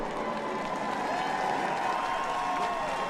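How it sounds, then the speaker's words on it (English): Distant race crowd at a 2021 NASCAR Cup Series event cheering as a driver climbs out of a burning car, a broad roar with a faint announcer voice underneath. "Crowd seeing Anthony get out of that car."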